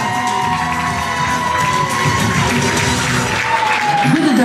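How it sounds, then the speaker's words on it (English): A lively crowd at an amateur ballroom dancing show cheers, whoops and claps for the dancers, loud and close, with shouts and raised voices rising over the applause. "big, big round of applause"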